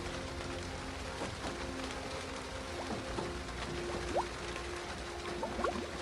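Steady rain falls as background ambience in a visual novel, a dense even hiss with scattered drips and a few faint chirps mixed in, continuous and unvoiced.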